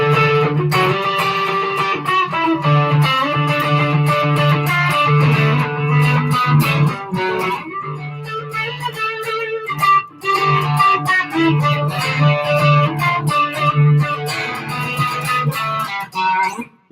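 An electric guitar plays a drone riff through distortion, a sustained low droning note under repeated chord stabs and melodic phrases, loud and continuous with brief breaks between figures.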